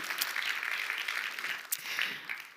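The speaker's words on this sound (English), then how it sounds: "So let's give a big round of applause to all of our sponsors" An audience applauding event sponsors at an opening welcome, a steady wash of clapping that is fairly distant and continuous throughout, with no voices over it.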